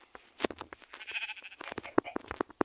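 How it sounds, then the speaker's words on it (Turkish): Several sheep bleat in quick short calls in Minecraft Java Edition, close by, mixed with a voice talking. "Ne kadar renkli koyun var."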